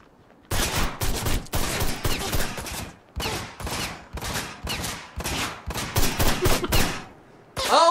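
Rapid bursts of gunfire in the video game Ride to Hell: Retribution crack out loud and close, with volleys of repeated shots over several seconds and brief pauses between them.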